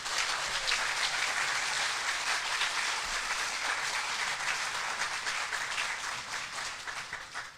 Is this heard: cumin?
no